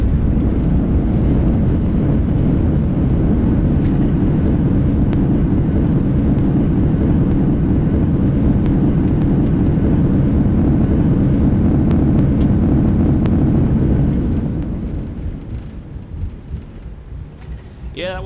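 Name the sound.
Airbus A340 landing in the video game X-Plane 11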